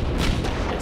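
Dense, continuous low-heavy roar with bursts of boom and crackle, a loud explosion effect from a comedic musical, sustained and full throughout with no clear break.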